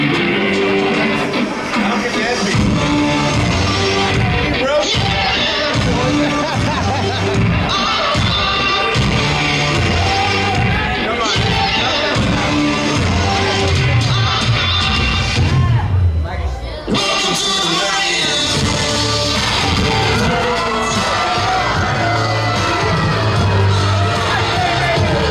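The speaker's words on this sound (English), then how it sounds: "has been showered with boos from this Colonial crowd" A wrestling crowd at a pro wrestling TV show booing a wrestler, a loud, continuous roar of yells and jeers filling the arena, with a commentator talking over it.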